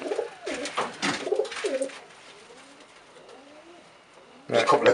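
Pigeons coo softly in a breeding loft holding a couple of pairs with young birds, with low repeated coos and wing or movement sounds, and someone talking over the start and end.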